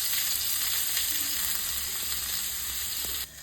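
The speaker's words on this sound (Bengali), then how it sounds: "এরপর আলুগুলোকে সব নুন হলুদ দিয়ে ভেজে নেব।" Potatoes fry in hot oil with salt and turmeric, giving a continuous close sizzle with faint scraping stirs, steady until the sound drops away abruptly near the end.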